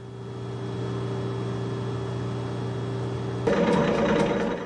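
A metal lathe runs in back gear with a steady, close mechanical hum, then a harsher, rougher grinding starts near the end as the cross-slide power feed engages to part off a steel test shaft.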